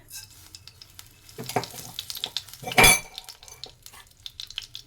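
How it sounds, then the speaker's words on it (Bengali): Mustard seeds sputter and crackle in one to two spoons of hot oil in a heated kadai as tempering for kadhi, a steady close sizzle with clinks of a utensil and a loud burst of popping near the middle. "এবার আমি ফোড়নে দিয়ে দেব অল্প একটু সর্ষে"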